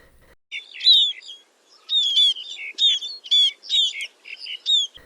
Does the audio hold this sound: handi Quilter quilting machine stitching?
no